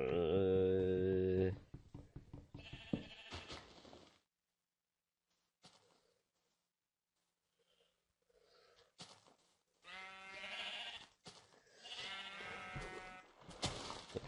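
Sheep bleat in the Minecraft video game, a loud nasal bleat up front followed by scattered quieter game sounds, gaps of near silence and further bleats toward the end.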